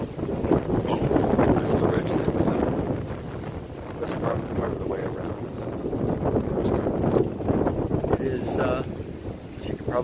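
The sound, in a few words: strong cold wind on a mountain ridge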